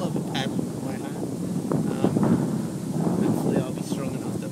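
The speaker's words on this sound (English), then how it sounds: "Getting quite windy." Gusty wind buffets the microphone on Sydney's Middle Harbour from a kayak, rising and falling in rough blasts with light splashing underneath.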